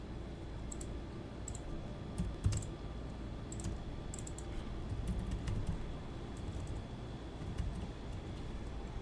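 Light, irregular clicks of keys on a computer keyboard while a command is entered in AutoCAD, fairly quiet against a steady background hum.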